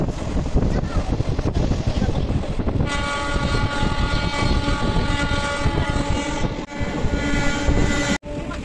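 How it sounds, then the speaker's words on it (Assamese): Riding a train bound for Nalbari produces a constant loud rumble of rolling wagons and wind buffeting the microphone, with a brief dip near the end. "আমি যাম এতিয়া নলবাৰী বাই ট্ৰেইন"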